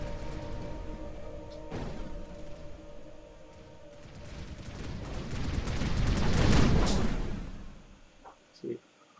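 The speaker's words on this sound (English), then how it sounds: "Oh yeah. This is some serious explosions." Explosions in the space combat game Reassembly build into a dense, swelling rumble of bursts and booms that peaks loudly before fading, with a voice speaking in the game's sound.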